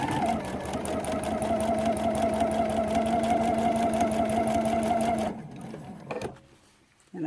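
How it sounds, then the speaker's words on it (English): A sewing machine stitches binding onto a quilt, running steadily with a fast even mechanical whir and rhythmic needle ticking for several seconds, then stopping abruptly and leaving faint handling noises. "Push it right back there against the needle. And sew right down that line that I drew."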